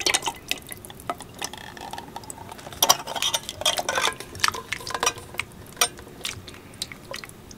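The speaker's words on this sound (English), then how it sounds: "So now I'm gonna put my soup in there." Soup is ladled into an electric cooker pot in a series of irregular wet splashes and drips, with light clinks of utensils, fairly close and without speech.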